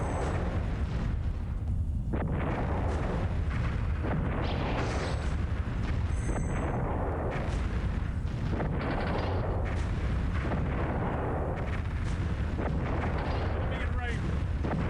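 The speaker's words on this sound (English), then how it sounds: "The fuck is he shooting at me?" Heavy, rumbling gunfire and booming explosions in the aerial combat video game Stratosphere: Conquest of the Skies, a continuous loud barrage of repeated bursts, with game voices briefly heard over the din.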